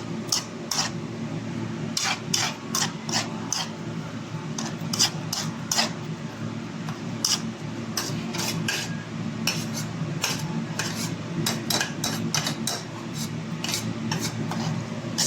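Spoon scraping and clinking in a bowl while milkfish kilawin is mixed with plenty of chili and calamansi, a steady run of close, rhythmic scrapes and taps over a low background hum, with no talking.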